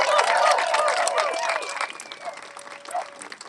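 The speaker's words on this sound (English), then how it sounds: "Let's give everybody who worked hard to pass this bill a round of applause" Steady applause fills a room at a bill-signing ceremony, a crowd clapping briskly and loudly at first, then gradually thinning with a few cheers and voices mixed in.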